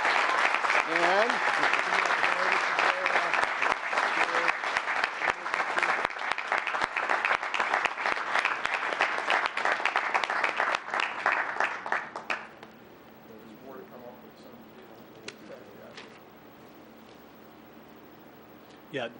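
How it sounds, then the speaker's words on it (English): A crowd at an Operation Welcome Home event applauds loudly and steadily for about twelve seconds, then the clapping fades out into quiet room noise with a few scattered claps. "here is a round of applause to approve it"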